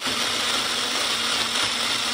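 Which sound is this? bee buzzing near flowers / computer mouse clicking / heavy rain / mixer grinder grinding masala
mixer grinder grinding masala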